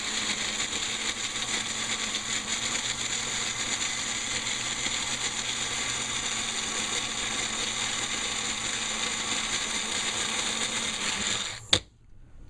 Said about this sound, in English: now I'm ready to blend it up